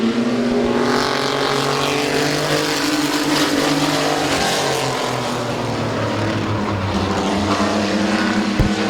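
Race cars roar around the oval at Midvale Speedway, a steady, loud wall of engine noise with overlapping cars passing as one spins in turn two.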